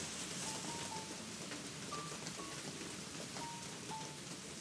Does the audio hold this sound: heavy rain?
yes